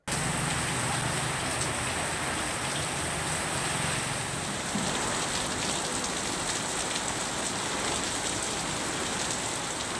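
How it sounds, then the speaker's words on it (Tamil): Heavy rain driven by strong wind pours steadily over the Chengalpattu and Madurantakam area, a dense, continuous roar of drops hitting surfaces throughout with no talk. "செங்கல்பட்டு மற்றும் மதுராந்தகம் சுற்றுவட்டார பகுதிகளில் சூறைக்காற்றுடன் பலத்த மழை கொட்டியது."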